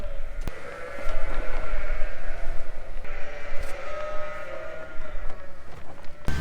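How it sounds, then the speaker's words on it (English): Sheep bleat repeatedly in a steady, droning chorus, fairly close and loud, with rumbling background noise like rain or an engine. "Got a few sheep here that need feeding"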